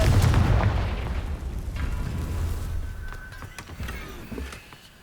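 Heavy blasts from a Confringo fire spell in Hogwarts Legacy, a loud low boom opening the clip and then a rumbling, crackling tail with smaller bursts that fades toward the end.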